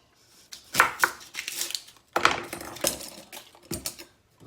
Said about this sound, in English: chopping an onion, nice easy way of doing this.